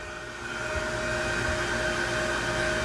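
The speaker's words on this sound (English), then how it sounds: "That's these fans running." Electric fans of an S&B Filters particle separator on a CFMOTO Zforce 950 side-by-side run as a steady, even whir with a faint high whine, starting slightly softer and holding constant throughout.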